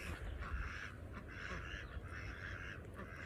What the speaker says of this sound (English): We'll go say hi to these little ducks here.